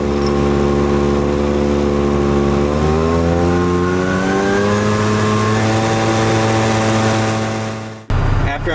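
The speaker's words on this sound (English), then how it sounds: "I gotta start my truck for that." A truck engine runs steadily at a loud, close range, revving up with rising tones before settling, then cuts off abruptly near the end, during a pre-trip inspection in a work yard.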